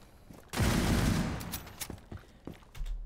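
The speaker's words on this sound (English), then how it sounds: "They're not supposed to fire their entire magazine in rapid succession like that." A bolt-action sniper rifle in Rainbow Six Siege firing in rapid succession: a loud, sustained burst of shots followed by several sharp, separate cracks, close and punchy.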